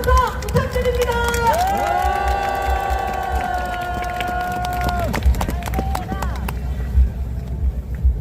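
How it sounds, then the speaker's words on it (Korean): A large outdoor crowd at a political rally cheers and claps while an amplified voice calls out over a loud PA, sustained shouts layered over continuous applause and crowd noise. "여러분 뜨거운 박수와 함성 부탁드립니다"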